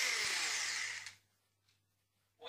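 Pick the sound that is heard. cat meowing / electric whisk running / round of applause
electric whisk running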